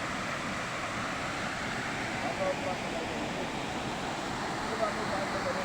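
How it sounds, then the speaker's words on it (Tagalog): Bumbungan Falls in Laguna heard from nearby as a steady, broad rushing roar of falling water, continuous and even throughout with no distinct breaks. "Ayun na yung falls, eh."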